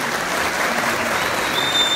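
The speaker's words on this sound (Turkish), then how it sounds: "Belediye başkanlarımıza çok kuvvetli bir alkış istiyorum" Dense, steady applause from a large crowd for the mayors at a party district congress in Kırıkkale fills the hall continuously, loud and even throughout with no voices standing out.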